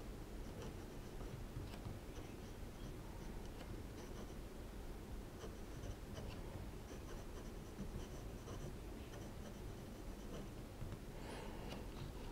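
A Pilot Elite 14k fountain pen with a fine nib and dark blue ink scratches faintly and steadily across paper in soft, continuous strokes, quiet and close with no voices.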